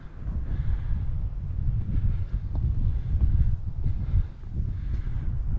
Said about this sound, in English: the wind is really quite strong and